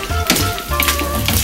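Tomato and chipotle sauce browns in a pan for spaghetti, giving a steady close crackling sizzle with sharper spits and pops throughout.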